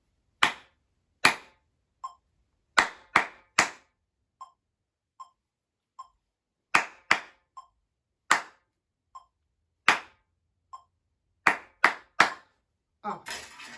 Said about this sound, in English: counting and clapping